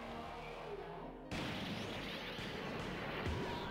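Arcade shoot-'em-up Darius Gaiden fires a dense, continuous barrage of shots and explosions, loud and roaring, and the noise jumps abruptly louder partway through.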